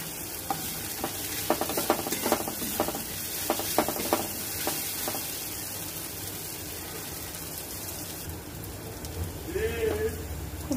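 Chickpea masala being fried down in oil until the oil separates, a busy sizzle with repeated rhythmic pressing and stirring taps in the first half, then a steadier hiss, with some talking mixed in.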